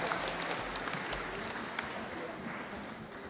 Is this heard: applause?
yes